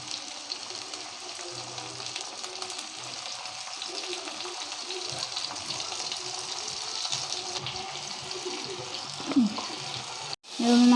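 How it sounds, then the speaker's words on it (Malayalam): Garlic, ginger, fennel and pepper paste sizzling with crab in a hot pan, a steady frying hiss with occasional stirring scrapes, ending in a brief louder clatter. "ഞാൻ അരച്ച് വെച്ചിരിക്കുന്ന പേസ്റ്റ്, അതായത് വെളുത്തുള്ളി, ഇഞ്ചി, പെരുംജീരകം, കുരുമുളക്, ഇതെല്ലാം കൂടി ഇത് അരച്ച് വെച്ചത് ഞാൻ ഇതിലേക്ക് ഇടുകയാണ്"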